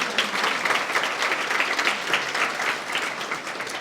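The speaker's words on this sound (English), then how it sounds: "Let's have a round of applause for everyone for their generous support" An audience claps together in warm, sustained applause, a dense even patter of many hands with no voices standing out.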